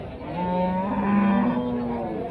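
A cow moos once in a long, low, drawn-out call at a cattle market, close and loud, with faint background murmur.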